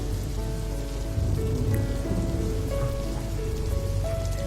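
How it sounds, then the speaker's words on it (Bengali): A rain sound effect sets a rainy day at a college canteen in a Bengali love story: an even, close patter of falling rain with soft tonal notes faintly underneath. "বৃষ্টির দিন"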